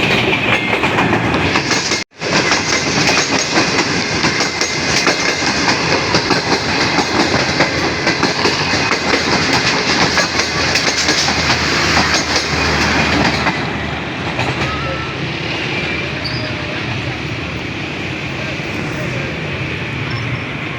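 The Green Line 6Dn express, led by locomotive ZCGEU 24557, passes close by near Rawalpindi with a loud, continuous rumble and rhythmic wheel clatter that eases slightly toward the end; someone talks over it.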